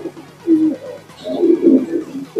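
Racing pigeons cooing close by in a loft, a few soft throaty bursts rising and falling over roughly two seconds, with faint background sounds and no talking.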